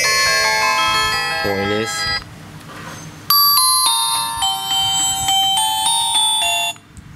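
A Masstel Fami 12 basic phone plays a Vietnamese song as its ringtone, bright electronic melody notes ringing in steady phrases with a short pause midway, loud and close, with brief speech.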